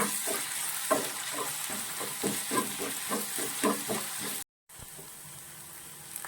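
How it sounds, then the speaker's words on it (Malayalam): Chopped green chillies sauté in a pan for a curry, giving a steady sizzle with rhythmic stirring scrapes, a brief silent cut, then continued frying hiss. No one speaks. "മൂന്ന് പച്ചമുളകോളം അരിഞ്ഞതും കൂടി ചേർത്ത് നമ്മൾ നന്നായിട്ട് ഇത് നന്നായിട്ട് സോട്ട് ചെയ്ത് ഒരു ഗോൾഡൻ ബ്രൗൺ കളർ ആവുന്ന വരെ ഒന്ന് മൂപ്പിക്കണം"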